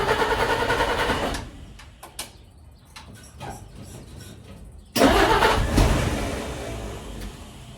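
Car engine turning over on the starter in two bursts, a loud churning crank at the start, a gap of faint clicks and taps, then a second strong crank that runs without catching; close and loud, no talking.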